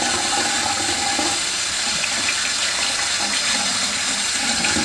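Tap water running steadily into a sink while a face is rinsed, a loud, continuous hiss and splash that stays even throughout, with no talking.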